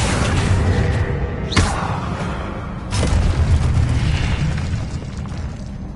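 Two loud, booming magical blasts from the Confringo spell in Hogwarts Legacy, a wizarding video game, spaced about a second and a half apart over a busy background of game sound.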